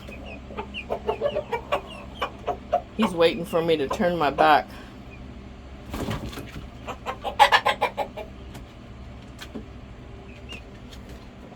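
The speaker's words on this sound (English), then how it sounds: "And here's my little broody chicken." A broody hen and a rooster cluck close by in a backyard coop, sharp clucks and a burst of squawking rising in clusters, with someone talking over them at intervals.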